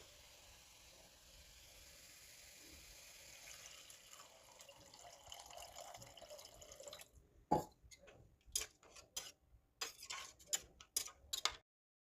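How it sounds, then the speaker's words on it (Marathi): Water pours steadily into spiced masala in a pot for a green khichdi, a continuous rushing wash that stops and gives way to scattered sharp drips and taps, close and alone. "तर चला आता आपण याच्यामध्ये ॲड करूया पाणी."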